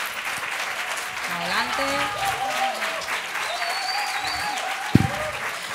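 A conference audience at a tarot congress in Barcelona claps steadily for a few seconds, a dense crowd applause with a voice calling out briefly over it.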